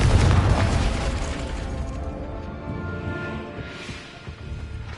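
A Confringo fire spell blast in the Hogwarts Legacy video game, a loud booming explosion that starts hard and rumbles on with a long crackling tail, no voices over it.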